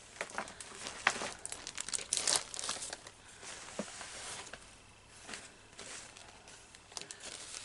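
Close plastic bag crinkling and rustling, with irregular bursts of crackling handling noise that rise and fall over several seconds.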